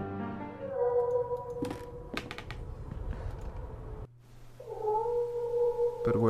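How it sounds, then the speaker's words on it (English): Cat meowing from the video game The Last Door: long drawn-out wailing meows with a tonal, caterwauling quality, sounding with game ambience and brief clicking in the background. "I hear a cat meowing in the distance."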